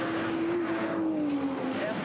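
A Porsche race car engine holds a steady high-revving drone at speed, one sustained, slightly falling tone that stays loud and close throughout.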